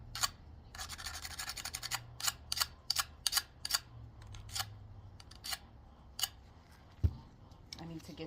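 Pruning shears are worked over a handheld sharpener in a series of short, crisp scraping strokes, quick bursts in an uneven rhythm, close and moderately loud with a quiet background.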